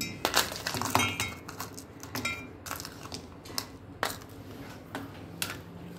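Small pieces of ice clink and rattle into a glass grinder jar while making chocolate cold coffee, a scattered series of faint, sharp knocks and clatters.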